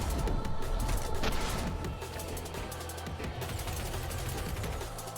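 Rapid machine-gun fire from small robots in the video game Sprawl, a loud, dense burst of gunshots that continues steadily for several seconds amid mechanical game noise, with no one talking.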